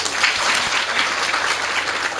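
Brief, steady clapping from an audience after a song at a spiritual cultivation gathering, a close and even patter with no talk.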